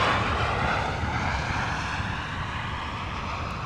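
A Cargolux Boeing 747-8 airliner arriving at Amsterdam Schiphol Airport gives a steady, broad jet roar that fades slightly over a few seconds, heard from a distance outdoors with no voices.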